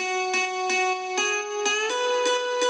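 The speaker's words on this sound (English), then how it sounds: "So the other main lead is the guitar lead." Nexus 'dance guitar' synth patch run through a Steinberg amp simulation with ping pong delay, a guitar-like lead from a track, plucked rhythmic notes in a bright, sustained melodic line, clear and alone.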